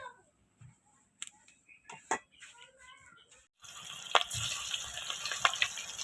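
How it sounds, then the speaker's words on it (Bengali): Fish sizzling as it fries in a pan in a home kitchen, a steady frying hiss rising after a few seconds of quieter clinks and handling noises, close and moderately loud. "মাছগুলো ভেজে নেব"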